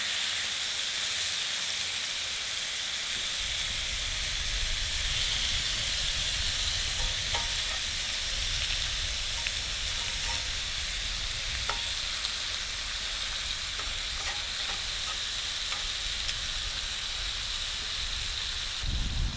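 Bacon sizzles and spatters in a pan over a campsite stove, a continuous close crackling hiss with scattered pops and faint stirring, steady throughout with no voices.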